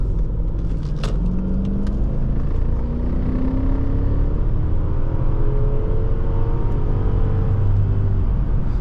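2011 Audi A8 with the 4.2 engine accelerating on the road, heard from inside the cabin as a steady, smooth engine drone with rising tones climbing through the gears over constant road and wind rumble.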